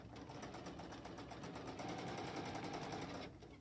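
A sewing machine runs a zigzag stitch during free motion quilting, giving a steady, fast mechanical whir with a regular needle rhythm that continues unbroken, then cuts out near the end.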